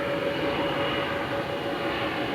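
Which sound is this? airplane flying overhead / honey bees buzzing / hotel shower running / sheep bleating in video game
airplane flying overhead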